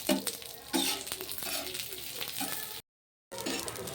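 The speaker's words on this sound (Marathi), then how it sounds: "इथे मी तव्यावर तेल टाकून घेतलेलं आहे। त्यावर आपण आता मिरच्या घालून घेऊयात।" Green chillies sizzle and spit in hot oil on a griddle, a steady close crackle with stirring and light utensil scrapes, briefly cut out near the end before the frying resumes.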